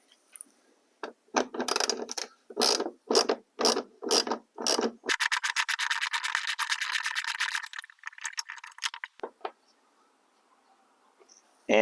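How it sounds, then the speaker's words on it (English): A ratchet with a 10mm socket turns a bumper bolt on a Honda Civic rear bumper cover, giving bursts of spaced clicks followed by a fast continuous ratcheting run, close and fairly loud. "remove this bolt right here using a 10mm socket"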